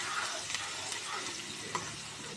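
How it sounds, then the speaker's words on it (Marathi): Onions frying with asafoetida in a pan for pav bhaji, a soft continuous sizzle with faint stirring clicks, steady and close throughout. "कांदा चांगला लालसर होऊ द्यायचा आहे"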